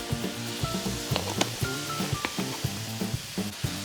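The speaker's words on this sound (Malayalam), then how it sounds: "ഇതെല്ലാം കൂടി നമുക്ക് വഴറ്റി വെക്കാം" A spinach cutlet mixture with turmeric, pepper, fennel and garam masala sautés in a pan, giving a close, crackling sizzle broken by frequent stirring clicks and scrapes.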